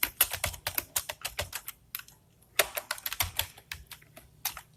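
Code typed on a computer keyboard in quick bursts of close, crisp key clicks, pausing briefly midway before the rapid tapping resumes.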